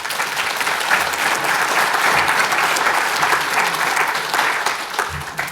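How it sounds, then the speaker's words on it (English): A seated audience at a financial advisers' panel event applauds the speakers with steady, dense clapping that holds for several seconds before tapering. "Let's go a round of applause."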